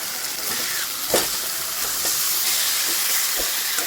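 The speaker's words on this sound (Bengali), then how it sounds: "এবারে আমার মশলা কষা হয়ে গেছে এবারে আমি মাংসগুলো দিয়ে দিচ্ছি" Chicken pieces added to spices cooked down with dried red chilli paste for Bengali chicken kosha: a loud, steady frying hiss with a few soft knocks and stirs, close up.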